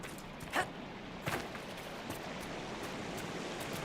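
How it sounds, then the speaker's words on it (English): A waterfall in the video game Dragon Age: Inquisition produces a faint, steady hiss of rushing water throughout, with a couple of brief soft clicks near the start. "Oh, we have a waterfall over there."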